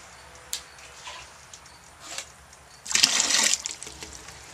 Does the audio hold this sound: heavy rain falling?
no